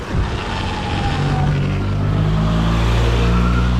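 A BMW carrying a road bike on its rack goes by close and loud, its engine a steady broadband roar with a low droning hum that swells slightly toward the end, with no voices.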